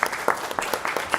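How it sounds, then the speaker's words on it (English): Audience applause at a national student assembly session, a short burst of clapping from a seated crowd, moderately loud and sustained throughout with no voices over it. "applause."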